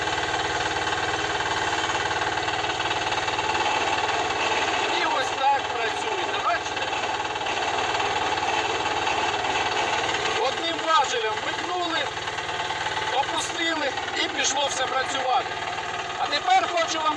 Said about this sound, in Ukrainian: зараз ми ще покажемо, як працює фреза